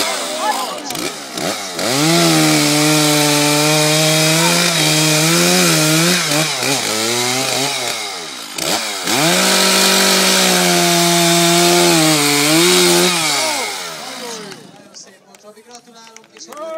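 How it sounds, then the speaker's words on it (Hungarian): Chainsaw cutting wood at a woodcutting competition in Keszeg, its loud, close engine whine rising and holding through long cuts with a brief dip midway, while a commentator talks over it. "Egyáltalán, hogy megindítani a fűrészt, az sem egyszerű"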